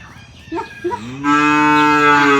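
A cow at a family farm gives one long, loud, close moo after a few short grunting sounds, with no people talking.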